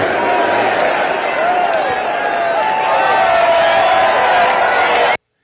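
A large wrestling-event crowd roars and cheers for Trump in a dense, continuous wash of noise with scattered whoops. The sound stays loud for about five seconds and then cuts off abruptly.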